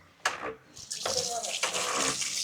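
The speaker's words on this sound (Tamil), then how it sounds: "குழாய் பைப் இருந்தால் நாங்கள் இலகுவாக அடித்து தண்ணி எடுக்கலாம்" Water pumped by hand from a tube well, gushing in uneven surges with brief pauses between pump strokes, close and fairly loud, with no talk over it.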